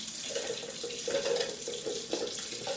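Tap water runs steadily into a pot for cooking saffron yellow rice, a close continuous rushing stream with faint gurgling shifts and no talk.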